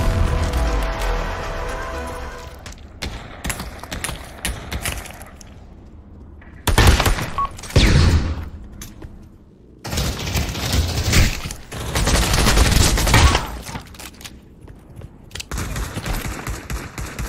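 Gunfire in the Pavlov VR shooter game, with sustained bursts of automatic rifle fire and loud rapid shots coming in several clusters, punctuated by brief pauses and mechanical clatter.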